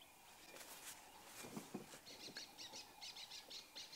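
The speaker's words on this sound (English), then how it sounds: "You can hear the birds' alarm calling." Birds give alarm calls in scrubby bush, a series of faint, sharp repeated chirps and chatters at a distance over quiet background noise.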